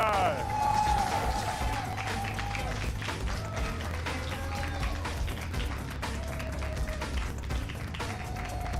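A live crowd at a university finals competition cheers and claps for a team, a steady dense wash of applause and voices sustained throughout, fairly close and loud, with a host talking over it.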